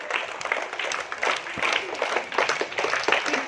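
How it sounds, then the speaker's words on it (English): A school award ceremony audience gives a lively round of applause, many hands clapping together steadily for a few seconds, fairly close and moderately loud. "Give a very good clap"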